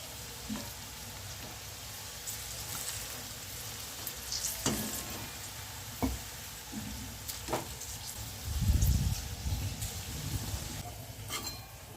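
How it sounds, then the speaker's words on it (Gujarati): Okra frying in oil in a kadai for Punjabi-style bhindi, with a steady close sizzle and occasional spoon scrapes and clinks from stirring, plus a louder burst of sizzling midway. "ભીંડાને આપણે એકથી બે મિનિટ માટે કૂક કરી લઈશું અથવા તો થોડો સોફ્ટ થાય ત્યાં સુધી રહેવા દેશું"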